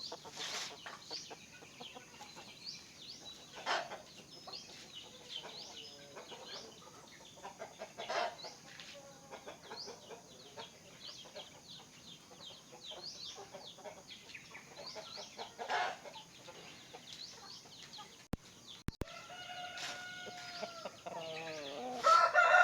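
Shamo chickens cluck in scattered, repeated bursts across a farm setting, with occasional crowing, the calls fairly close and moderately loud, ending in a louder, longer crow.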